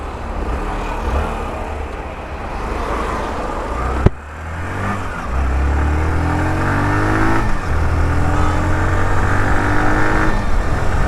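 A Hero Glamour 125cc commuter motorcycle starts with a sharp click, then its engine revs and pulls away, the loud steady drone rising as it rides along a road, with wind noise and no speech.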